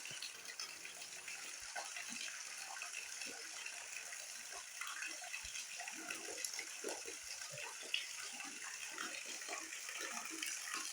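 Water pours steadily from above into a small natural pool at a waterfall near Seulo, a continuous broad rushing that stays even and moderately close, with scattered small splashes and knocks.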